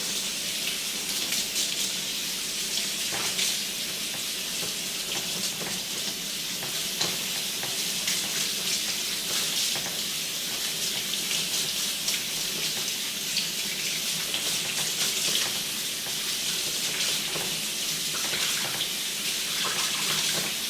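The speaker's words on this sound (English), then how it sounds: "let me rinse it off first, just so that it is organic" Tap water runs steadily over fresh cilantro being rinsed in a kitchen sink, a continuous close hiss and splash with no talking.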